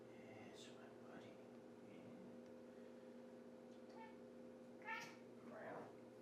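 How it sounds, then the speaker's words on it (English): Pet cat meowing in a quiet indoor room, a few short meows scattered over steady electrical hum, with a soft whispering voice nearby. "my kitty wants my attention"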